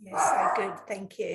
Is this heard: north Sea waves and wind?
no